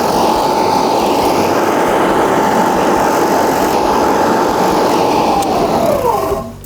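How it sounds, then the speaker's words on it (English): A Cobra AirMow5180V hover lawn mower motor runs loud and close with a steady high whine that holds throughout, then drops in pitch as it winds down at the end. "we pull back the red lever, and that starts the motor"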